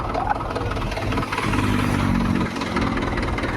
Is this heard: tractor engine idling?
yes